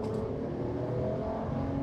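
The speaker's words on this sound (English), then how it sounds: "I also love the sound of this engine" A 2025 Ram 1500 Tungsten twin-turbo truck engine with a true dual exhaust pulls under acceleration, a steady, rising mechanical hum with clear engine harmonics and no talk.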